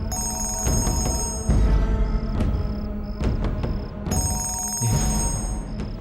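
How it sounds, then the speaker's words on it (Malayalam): A telephone rings repeatedly inside an empty house, bright electronic trills arriving in regular bursts with short gaps between them, loud and close. "ഒന്ന് വിളിച്ചു നോക്കാം. ആ, ബെല്ലുണ്ട്."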